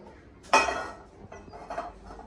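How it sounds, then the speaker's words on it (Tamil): A wide frying pan is set down on a stove with one distinct metallic clank, followed by faint softer clatter, nearby and without speech. "சட்டி அடுப்பில் வச்சாச்சு"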